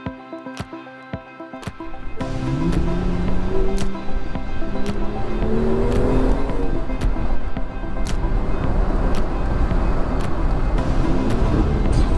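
Car driving along a widening road with painted lines, steady engine and road rumble filling the stretch after a quieter start, with a shifting tonal drone rising and falling throughout.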